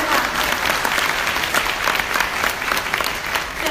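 Steady, dense audience applause at a Thai business seminar, many hands clapping loudly and continuously with no pauses, filling the hall from start to finish.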